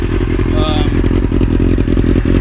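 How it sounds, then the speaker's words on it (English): A used motorcycle's engine runs loud and close, a steady, dense rumble with slight blips as it is given a couple of revs during an inspection before purchase. "just give it a couple revs or whatever, make sure everything's working right."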